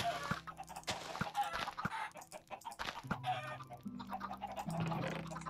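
Chickens in Minecraft cluck in short, repeated bursts at close range, mixed with other steady in-game sounds and tones.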